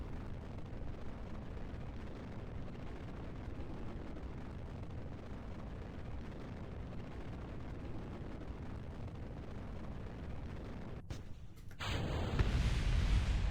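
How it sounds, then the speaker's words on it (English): A Kerbal Space Program rocket burns upward with a continuous deep, rumbling engine roar, steady and loud for about eleven seconds, then cuts briefly before a heavier low rumble resumes. "and we have liftoff. Alright, so this is burning us quite fast upwards, as a rocket should"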